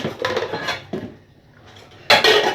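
Dishes and cutlery clatter in a kitchen sink as they are washed, with bursts of clinking and scraping separated by a quieter pause, close and loud.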